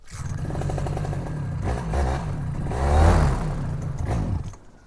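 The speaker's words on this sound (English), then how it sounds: "I hit full throttle and it died." A paramotor engine with a Russian frame, running a break-in oil mix and not yet warm, drones close and loud, surges to full throttle in a rising roar, then falters and dies away into near silence at the end.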